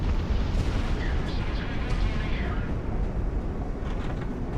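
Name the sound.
missile explosion in Project Wingman video game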